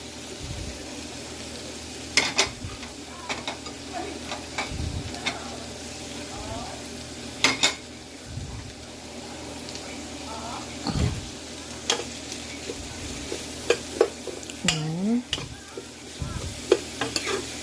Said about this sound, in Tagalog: Igisa natin siya kasama ng ito pork taba.